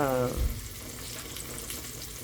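Pork chops sear in a hot pan, giving a steady, close sizzle and crackle that continues after a brief voice at the start.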